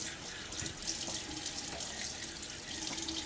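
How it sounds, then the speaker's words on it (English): Tap water runs steadily and splashes as it is scooped onto a face during a wet shave at a sink with a Gillette Black Beauty razor; a close, continuous, hissing stream with no voices. "Water on my face."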